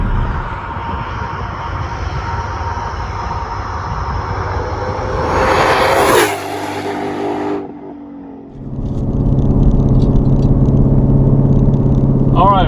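A 2020 Shelby GT500 accelerating hard: a loud, rising engine roar that climbs in pitch, briefly cuts out as if shifting, then surges again with steady power, heard close from inside the car.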